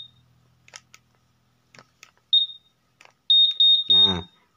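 Honda Vario 150 motorcycle security alarm sounding close by: a single sharp high beep, then a rapid run of five or six loud piercing beeps, with faint handling clicks between.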